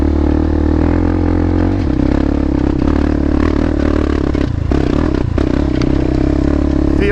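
A Kawasaki Z400 motorcycle rides along a trail at a medium pace, its engine droning steadily and loud throughout, with a shift in pitch partway through and some clattering and scraping over the steady hum.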